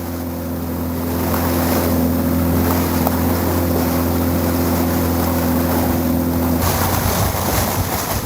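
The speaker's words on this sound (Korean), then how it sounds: "모터배를 몰고 2시간 이상을 내리 달렸을까" A motorboat engine drones steadily at sea, carrying Lamalera whalers on a long run; a constant low hum with rushing water, then the engine tone shifts near the end.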